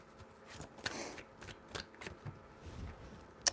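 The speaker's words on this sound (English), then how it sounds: "Three shuffles." Tarot cards are shuffled three times in quick, papery riffling bursts, near and fairly quiet, ending with a sharp snap of the deck.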